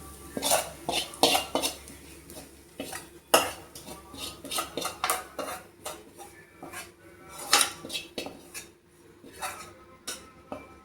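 A metal spoon scrapes and clatters repeatedly in a pot as curry is tossed and mixed, with irregular bursts of clinking and stirring close by and no talking.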